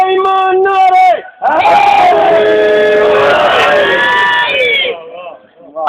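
A crowd at a religious majlis gathering shouts slogans in unison. Loud, near chanted cries rise together, break off briefly, then swell again into a long sustained shout before trailing away.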